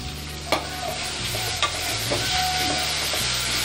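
Ginger garlic paste sautéing with onions and mint in a pan for jackfruit thokku, a steady close sizzle. Occasional sharp ladle scrapes and taps mark the stirring, and no one speaks.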